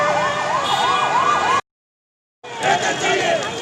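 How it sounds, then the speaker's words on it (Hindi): An ambulance siren wails in repeated rising-falling sweeps as it is given way through a protest march in Delhi, loud and close, cutting off briefly before returning amid street noise and crowd voices. "अब देख सकते हैं कि किस तरीके से एम्बुलेंस को रास्ता दिया जा रहा है"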